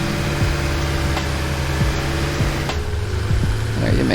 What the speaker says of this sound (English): the tractor doesn't like this hill